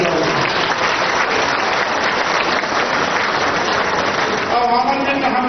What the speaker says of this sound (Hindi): चौधरी जी के ताली बजा कर स्वागत